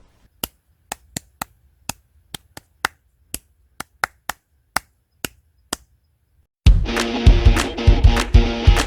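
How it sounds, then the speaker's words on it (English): Hands clapping a beginner sight-reading rhythm exercise, a dozen or so sharp, close claps in an even pulse over silence, followed by a burst of louder, denser sound at the end. "Now let's clap it together."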